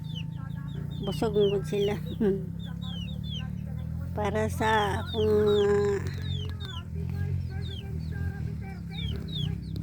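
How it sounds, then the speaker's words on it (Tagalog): Farm chickens belonging to a family clucking and calling close by in a rural yard, a steady run of short clucks with a few louder squawks, while a person talks over them. "Sige raman nagpungko akong manok oh."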